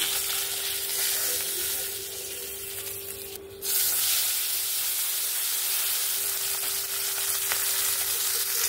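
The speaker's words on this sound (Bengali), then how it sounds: "এখানে আমার সব মাছগুলো ভাজা হয়ে গেছে, আমি তুলে নিচ্ছি।" Fish fries in hot oil with a dense, steady sizzle and crackle, briefly dipping and broken by a short bump before resuming at full loudness; a low constant hum sits beneath and nobody speaks.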